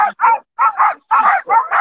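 Sled dogs at the start of a race stage in Valmorel bark and yip in rapid pairs of sharp, loud calls, close by and repeating with brief gaps.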